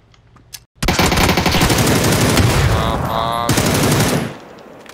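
Sustained machine-gun fire in a first-person shooter video game, a loud, continuous rapid burst lasting several seconds after a brief quiet start, with little else audible.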